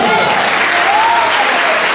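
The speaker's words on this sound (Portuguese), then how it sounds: "Aplauda o Senhor." Church congregation applauding during a women's congress service, a dense, steady wash of clapping throughout with voices mixed in beneath.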